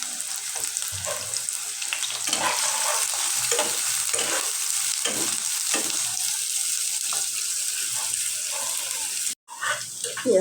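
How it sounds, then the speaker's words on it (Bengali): Onions fry in hot oil in a wok, giving a loud, close sizzle broken by repeated scraping stirs, with a brief drop to silence near the end before the sizzling returns. "এর মধ্যে এখন পেঁয়াজটা আমি ভালো করে ভাজে নিব মাংসের জন্য।"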